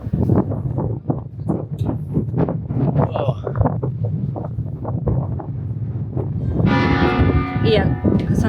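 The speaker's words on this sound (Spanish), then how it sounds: "Justo suenan las campanas. Estamos justo enfrente del campanario." Cathedral bells of Salamanca ring out from the bell tower, heard from right in front of it, loud clanging tones swelling near the end while someone talks over wind buffeting the microphone.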